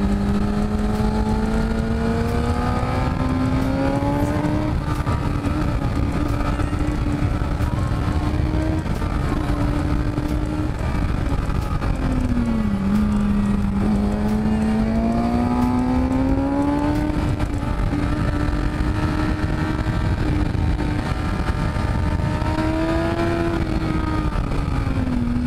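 A 2008 Kawasaki ZX-6R motorcycle ridden at speed, its high-pitched engine whine climbing and dropping through the gears with repeated revving, loud and close over constant wind rush.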